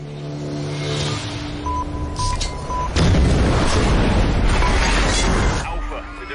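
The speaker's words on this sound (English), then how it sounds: "the device has detonated" A device detonating in an action film, a deep heavy rumbling blast that swells and holds loud for several seconds, with engine-like roaring and a tonal sound before it.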